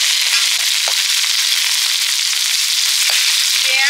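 Chopped garlic and ginger sizzling in hot oil in a pan while cooking egg chicken chowmein, a steady close frying hiss with light crackles and no voices.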